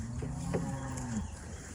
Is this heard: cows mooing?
yes